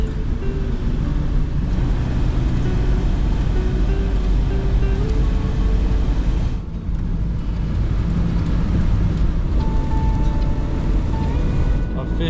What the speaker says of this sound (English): Officially now, we're cruising up the highway. The RAV4 holds a steady speed.